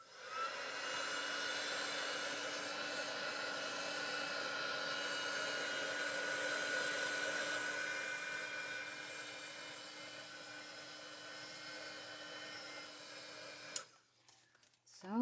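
A hair dryer blows steadily to dry stamped watercolour paint, a loud, continuous airy whoosh holding for about fourteen seconds before it cuts off abruptly, followed by brief handling noise.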